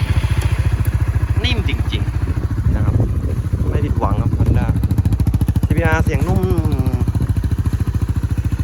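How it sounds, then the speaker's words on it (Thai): A 2020 Honda CBR150R motorcycle idles steadily nearby, its even, rapid engine pulse running throughout while someone talks over it. "ลองสตาร์ทฟัง เสียงเครื่องเลยครับ"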